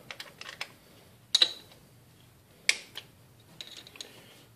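Wrench work on a small-block Chevy rocker arm, loosening the poly lock nut while setting valve lash: a few sparse, sharp metallic clicks and clinks, close and fairly quiet, with no talking.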